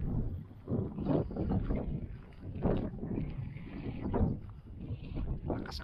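Strong wind on a hilltop at the Red Tower in Mellieħa, Malta, buffets the microphone in loud, rumbling gusts that rise and fall throughout.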